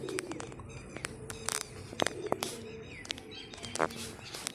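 Pigeons are released to fly, their soft coos and chirps mixing with sharp wing claps and fluttering nearby, while faint voices murmur in the background.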